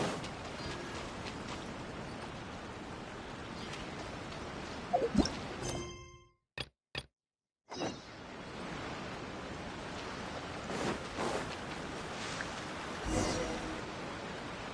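A small waterfall trickles in a fantasy adventure video game, a steady soft wash of running water that cuts out briefly midway and then resumes, faint and continuous with no speech.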